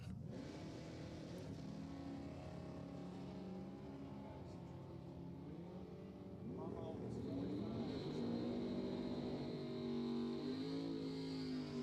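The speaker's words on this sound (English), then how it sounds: "you see the cars launch and then kind of grunt for a few hundred feet" Drag racing cars at Thunder Valley Motorsports Park, using throttle stops, launch and grunt down the strip with a steady, droning engine roar that swells and shifts pitch midway, heard from a distance with an announcer talking over it.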